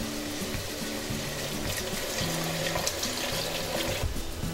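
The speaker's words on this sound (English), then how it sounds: "we're adding in 5 cups of water." Five cups of water poured into a pot of Cajun jambalaya mix, a continuous splashing gurgle of filling liquid, steady and close throughout, with no talk.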